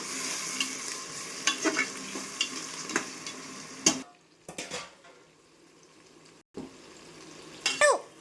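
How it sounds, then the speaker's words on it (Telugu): Tomatoes frying in a pan while being stirred, a low continuous sizzle broken by repeated scraping and clinking of a utensil against the pan, with brief quiet gaps between bouts of stirring. "కొంచెం వేగిన తర్వాత టమాటోలు వేయాలి. కలుపుకోండి ఇప్పుడు మంచిగా."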